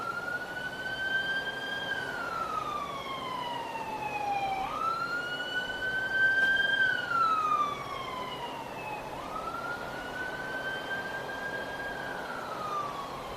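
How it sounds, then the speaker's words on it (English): A wailing siren rises and falls in long, steady sweeps, loud and continuous, with a slight pitch bend as it passes, at SpaceX's Boca Chica launch site during a Starship SN6 static fire. "Did the siren break?"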